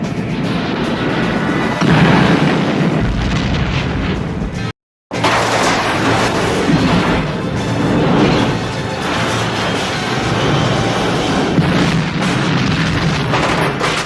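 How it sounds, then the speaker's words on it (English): Batplane being shot down and crashing in a Batman movie scene, loud dense booming blasts and crashes with a brief dropout of silence midway, then continued rumbling impacts and roar. "the Joker pulls out a long pistol from his pants, shooting the Batplane, causing it to crash."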